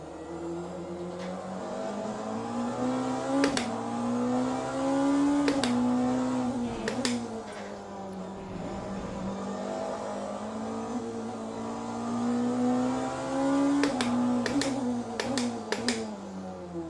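A hypercar engine drones steadily in the Le Mans Ultimate racing game, its pitch rising and falling with throttle and gear changes, and sharp clicks come in bursts throughout.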